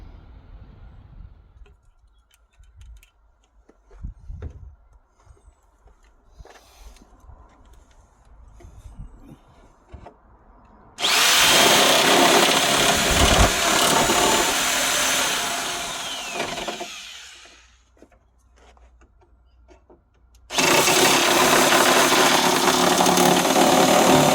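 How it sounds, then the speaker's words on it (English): A power nibbler bites through the body metal of a Rover P6 in two loud, harsh, buzzing bursts of several seconds each, after quiet handling noises in the workshop. "let's see how the first use of this nibbler goes on this metal"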